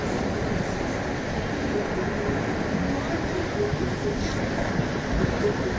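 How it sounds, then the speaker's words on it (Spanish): Sea waves wash against a rocky shore in a steady, close roar of surf that continues throughout, with possible faint voices mixed into the noise. "aquí en la presencia de las olas del mar en este pedrero"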